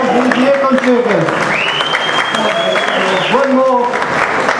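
An audience applauds a performing group, steady clapping running under loud talk and a sustained sung or whistled tone, fairly close.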